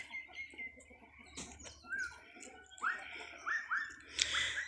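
Chickens on a poultry farm in Assam cluck and squawk in short, scattered calls close by while feeding, with a steady low hum underneath.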